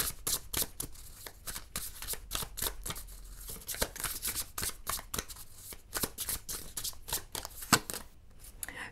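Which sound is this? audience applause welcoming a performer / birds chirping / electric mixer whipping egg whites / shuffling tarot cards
shuffling tarot cards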